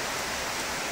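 Heavy tropical rain pours down steadily in Indonesia, a dense, even hiss of drops drumming on surfaces nearby, loud and continuous with no voices.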